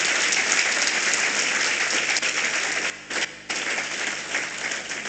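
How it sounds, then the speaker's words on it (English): Lecture audience applauding after a public talk, a thick continuous wash of many hands clapping close by, briefly thinning for a moment before swelling again. "Let's give him another round of applause."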